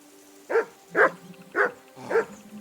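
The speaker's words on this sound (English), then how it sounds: "I assume you can hear that damn dog of yours." A dog in the video game Kingdom Come: Deliverance II barks four times in an even rhythm, close and fairly loud, with a low game ambience underneath and no talk.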